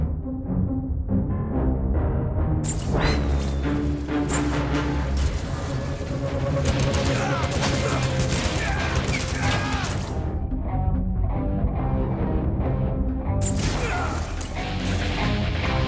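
Riflemen units fire in the mobile strategy game Command and Conquer Rivals, a dense run of crashing shots and impacts over game music, with a stretch of heavier bursts near the middle.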